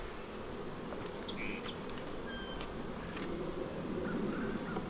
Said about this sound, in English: I have very calm bees.